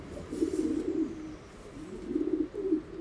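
Pigeons cooing nearby, soft low throaty coos in two short bursts separated by a brief pause, quiet and close with no other sounds.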